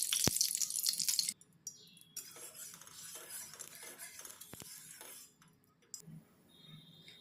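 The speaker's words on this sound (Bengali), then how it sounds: "এবার কড়াইয়ে আমি দিয়ে দিলাম সর্ষের তেল।" Mustard oil poured into a kadai, a soft liquid trickle lasting a few seconds after a clink of utensils, with small taps and drips at the end, fairly quiet and without speech.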